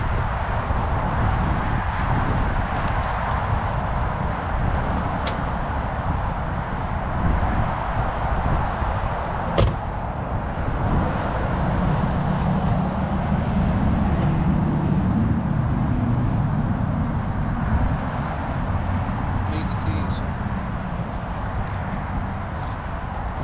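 A classic Mini engine runs continuously as the car is driven, a steady low mechanical rumble with road and wind noise and a few sharp knocks.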